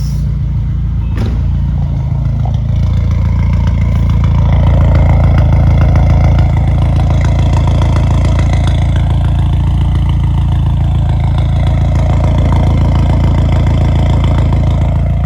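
A stage 2 tuned Skoda Octavia vRS with a valvetronic exhaust idles close up, a deep, smooth, steady rumble with a slight swell midway and no revving.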